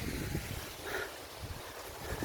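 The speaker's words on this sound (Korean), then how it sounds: "바람까지 시원하게 불어주고" Cool outdoor breeze blows across a forest hiking trail, a steady low rumble of wind buffeting the microphone with a faint soft swell partway through and no voices.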